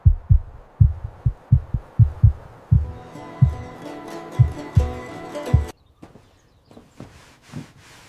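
A rhythmic heartbeat sound effect with about a dozen deep, regular thumps, strong and close for the first half. It then grows softer and sparser under a denser, fuller background.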